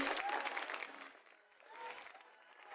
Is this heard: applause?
yes